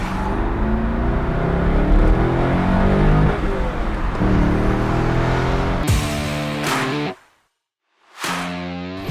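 A 2000 Corvette convertible with a three-pedal six-speed manual revs hard as it accelerates, its loud engine note climbing through the gears. It cuts out briefly near the end and then roars back.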